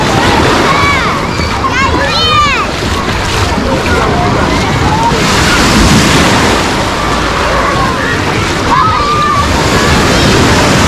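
Sea waves wash and slosh against a pebble beach at Lazarevskoye near Sochi, a continuous loud surf roar with a few splashing bursts, under wind and occasional voices.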